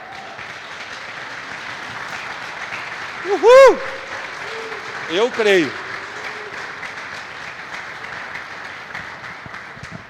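A church congregation applauds during a celebration service, a steady wash of clapping running through the whole stretch while a voice whoops and speaks over it.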